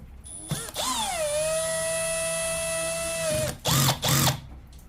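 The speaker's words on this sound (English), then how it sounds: "I'm gonna use my drill, but I'm gonna turn it down to 2." A power drill on a low setting tightens carburetor screws on a 25cc two-cycle weed eater, with one long steady whine after a quick rev-up, then two short bursts, close and loud.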